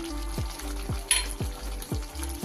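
Chicken frying with slit green chillies and a fried spice mix for lemon pepper chicken: a sizzle under a regular series of about five soft knocks or scrapes at steady intervals, close, with no talking.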